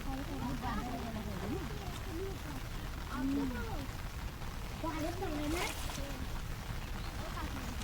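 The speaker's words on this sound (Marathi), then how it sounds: "आणि पाऊस सुद्धा सुरू झालाय." Heavy monsoon rain falls on farm fields in Chiplun during ploughing and rice transplanting, a steady, dense hiss that runs the whole time under nearby voices.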